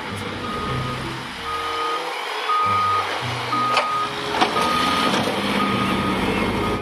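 A dump truck gives a steady series of reversing beeps, evenly spaced and moderately loud, over a rumbling engine and outdoor traffic noise.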